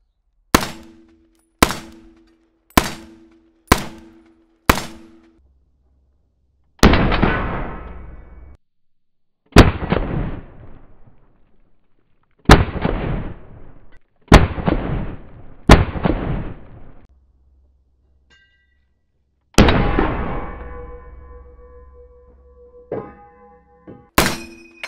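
M1 Garand rifle shots ring out: five sharp cracks in quick succession, then a series of louder, echoing shots spaced a few seconds apart.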